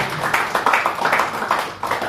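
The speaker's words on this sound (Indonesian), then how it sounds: "gak ada yang berikan tepuk tangan buat Tuhan?" A church congregation claps together in a steady burst of applause, with brisk overlapping claps holding up close and loud for a couple of seconds, then easing briefly before a final surge.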